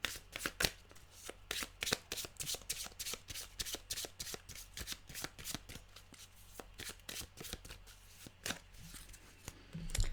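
A deck of animal cards is shuffled repeatedly up close, a rapid series of crisp riffling snaps and flutters in uneven bursts with brief pauses between.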